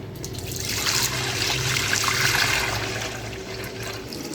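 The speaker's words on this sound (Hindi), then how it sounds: "कढ़ाई में हम दूध ऐड करेंगे" Milk poured steadily into a kadhai for Multani sohan halwa, a continuous splashing liquid stream that swells in the middle and stays loud and close throughout, with no talking.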